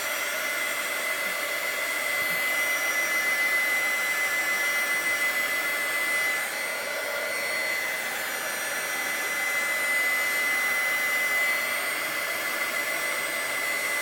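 A heat embossing tool blows hot air steadily across an art journal page, a constant hairdryer-like whoosh that holds at an even level with a thin whine riding on top.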